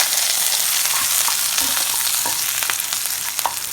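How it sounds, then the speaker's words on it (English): Boiled, mashed potatoes are stirred quickly in a hot pan with curry leaves and red chilies, giving a loud, dense frying crackle and scraping that runs continuously close up, with no talking. "In this, I'll add some curry leaves, some beautiful red chilies, and potatoes, which are boiled and mashed. I'm gonna mix them quickly."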